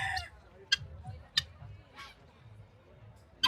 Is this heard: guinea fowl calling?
yes